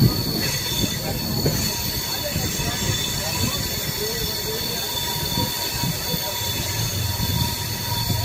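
The Kondaveedu Express pulling into Dharmavaram station on a curve, with a continuous loud metallic squeal of train wheels over a steady rumbling roll that lasts throughout.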